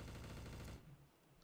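Gunshots in Trouble in Terrorist Town, a loud rapid burst of firing lasting under a second before abruptly stopping into quieter background.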